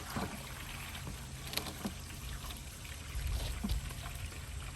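Water pours from a hose into a cooler, a faint continuous trickling and gushing with soft splashes that grow slightly fuller toward the end.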